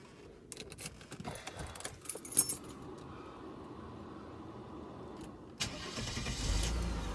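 A 1992 Mercedes W124 300E with an overheating fault being restarted in hot weather: a few clicks and clunks, then the engine cranks and catches, settling into a steady, loud idle near the car.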